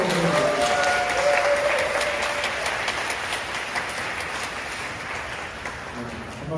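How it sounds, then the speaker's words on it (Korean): A church congregation gives a big round of applause for the staff, dense sustained clapping from a crowd that gradually thins, with a voice speaking over it. "우리 박수 한번 큰 박수 한번 드립니다"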